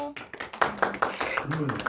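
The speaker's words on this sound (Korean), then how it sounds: "박수 한번 보내주세요" A small group at a professional instructor training course claps in quick, rhythmic bursts for a brief moment, with a voice talking over the clapping.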